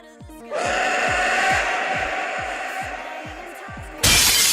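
Objects shatter in the Roblox game Insane Elevator: a sustained loud crashing, breaking wash over rhythmic low thumps, ending in a sudden burst of harsh noise.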